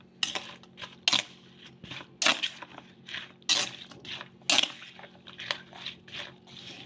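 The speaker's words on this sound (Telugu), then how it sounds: "ఇలా ఎగ్స్ వేసుకున్నాక మొత్తం కూడాను ఒకసారి బాగా కలిపేసుకుందాము" Chopped cluster beans stirred together with raw eggs in a bowl, giving a run of wet, squishy clicks and scrapes in irregular strokes, close up with no voice.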